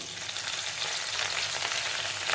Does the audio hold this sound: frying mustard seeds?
yes